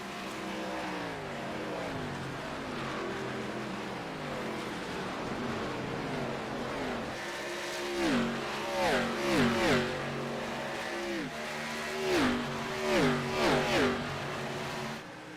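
Race cars in an ARCA Series race at Atlanta Motor Speedway roar steadily with rising and falling engine pitch, several cars sweeping past in loud, repeated passes at middle distance.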